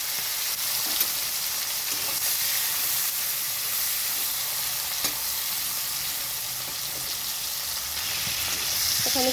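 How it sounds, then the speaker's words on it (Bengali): Prawns fry in hot oil in a wok, giving a dense, continuous hissing sizzle at close range with a few louder spits and scrapes scattered through it, and nobody speaks. "তো এখানে আমি চিংড়ি মাছটা ভেজে নেব।"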